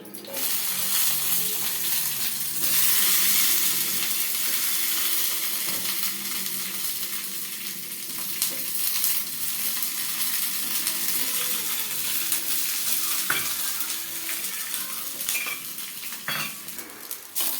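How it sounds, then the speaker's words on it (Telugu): Green chillies frying in a pan for chutney, a sustained crackling sizzle up close, with occasional clinks of a utensil stirring against metal and no talking. "చట్నీకి అయితే పచ్చిమిరపకాయలు అయితే వేయించుకుంటున్నానండి"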